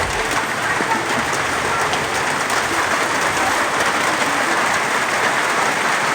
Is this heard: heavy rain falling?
yes